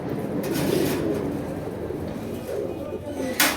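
Pigeons coo in low, repeated throaty calls close by, a continuous murmur from a pen holding several pairs, with a few brief higher clicks or bumps near the end.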